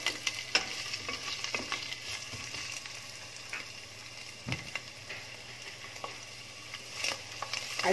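Mushrooms sauté in a pan for spaghetti aglio e olio, a soft, continuous sizzle with scattered scrapes and light clatter from stirring, fairly quiet throughout.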